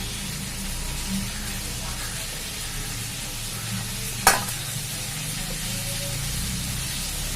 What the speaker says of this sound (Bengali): এই পটলটা ভাজা হয়ে যাবে